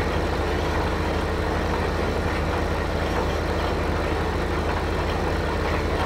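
A new tractor in Farming Simulator 15 idles steadily, a constant low engine rumble with a dense, even drone that holds unchanged throughout, with no talk over it.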